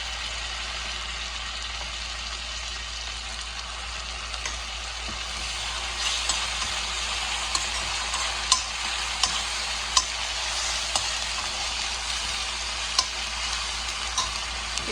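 Green chilies, mint and ginger-garlic paste frying in a pan for a spicy Telangana-style chicken curry, a steady loud sizzle with occasional stirring clinks, no talk.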